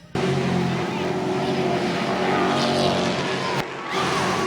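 A stock car slides sideways through a corner with its wheels locked, its loud, steady engine roar carrying on for about four seconds before a brief dip and return, with a track announcer talking over it.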